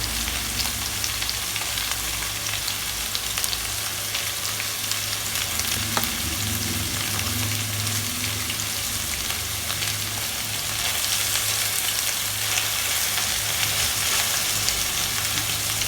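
Chicken kofta balls shallow frying in oil give a steady, even crackling sizzle that holds for the whole stretch with a faint low hum underneath, no voices present.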